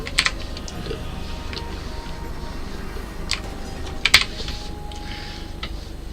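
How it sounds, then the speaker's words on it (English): Typing on a computer keyboard, sparse faint clicks and a few sharper taps, close but quiet, over a steady low background hum. "It's the keyboard that I can hear."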